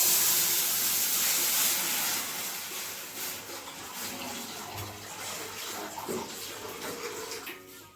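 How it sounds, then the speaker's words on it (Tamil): Water poured into hot oil with mustard seeds and urad dal gives a loud, steady hiss and sizzle that eases after about two seconds and then bubbles on more quietly. "போட்டதுக்கு அப்புறம் அது கருகிறதுக்குள்ள எண்ணெயை தண்ணியை ஊற்றவும்."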